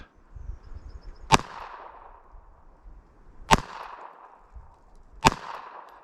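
Three sharp pistol shots from a Walther PPK/s fired with a two-handed grip, evenly spaced about two seconds apart, each a loud crack with a short ringing tail over quiet outdoor background.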